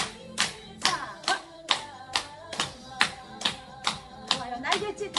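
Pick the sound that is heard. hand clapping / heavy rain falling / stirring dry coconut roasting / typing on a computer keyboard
hand clapping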